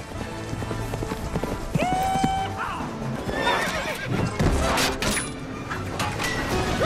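Horses neighing and galloping in an animated film, loud whinnies over rapid clip-clopping hooves and busy action sounds, with brief voices mixed in.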